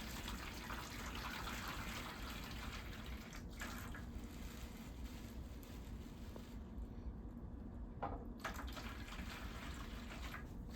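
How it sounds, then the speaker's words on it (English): Water pours steadily into a baking pan for a cheesecake water bath, a continuous close splashing gush that briefly thins and drops out partway through before resuming. "we're going to dump the water into the pan"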